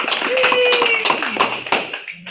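Light clapping from a small Toastmasters meeting audience honoring winners, a few sharp individual claps over a background tone and voices, fading out near the end.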